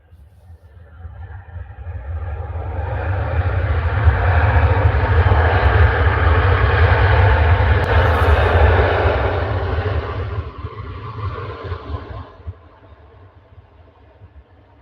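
A Hainan Airlines airliner landing in thick fog at Manchester Airport, its engine roar swelling from a distant rumble to a loud sustained peak, then fading with a deep low drone, no talk.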